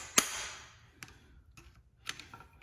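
Sharp metallic strike on the valve retainer of a Ford 8N flathead engine during valve train removal, one loud close hit followed by a few fainter taps about a second apart.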